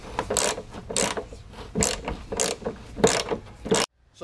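Phillips screws are backed out of the plastic sill trim on a Land Rover Discovery Series II with a ratcheting tool, making repeated close clicking ratchet bursts in an uneven rhythm before stopping.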